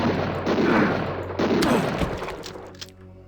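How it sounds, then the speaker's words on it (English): Heavy layered gunfire in the DOS video game Harvester, dense and loud at first with a couple of renewed bursts, then trailing off into a quieter tail. "I gotta stop shooting the ground though, I tell ya."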